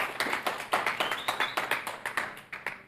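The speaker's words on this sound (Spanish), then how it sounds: "denle un fuerte, pero un fuerte aplauso" Church congregation at a Sunday Christian service clapping together, a quiet, fairly steady run of sharp hand claps that thins out and fades at the end.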